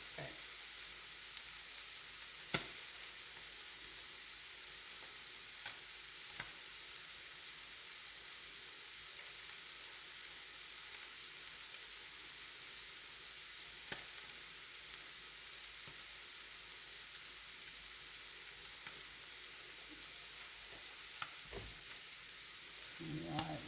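Scallops sear in a hot pan with a steady, bright sizzle that goes on throughout, close and even, broken by a few faint clicks.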